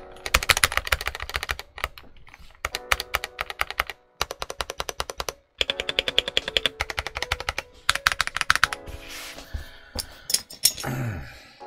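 Rapid typing on a Risophy PC404 75% mechanical keyboard with lubricated, stabilized Huano Red switches: dense bursts of crisp clacks in quick runs, broken by short pauses, close and clear with no talk.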